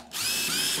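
A power driver spins out quarter-inch screws from the white cardboard back panel of a Frigidaire refrigerator, a steady close-up whir with ratchety texture that starts abruptly and runs continuously.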